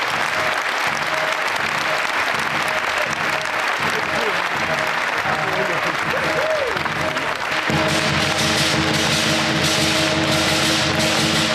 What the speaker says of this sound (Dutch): Geef ze een applaus.